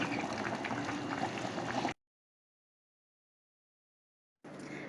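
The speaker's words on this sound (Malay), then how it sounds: "Ayam kita sedang mendidih ya, kari ayam kita sedang mendidih." Chicken curry boils in a pot, a steady dense bubbling and simmering that is loud and close, then cuts out abruptly into silence before the bubbling resumes.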